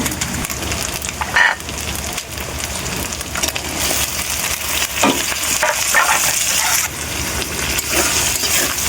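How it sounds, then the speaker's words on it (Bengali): Chopped tomato hits hot oil in a kadai for an eggplant and tilapia dish, giving a dense crackling sizzle with occasional stirring clatter, close and continuous. "কুচি করে রাখা টমেটোটা এবার কড়াইতে দিয়ে দেব।"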